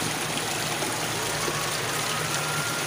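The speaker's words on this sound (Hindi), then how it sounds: "ये लो यहाँ का नेचुरल पानी, ठंडा ठंडा।" Cold natural spring water runs steadily in a village, a continuous close rushing trickle that fills the clip with no talking.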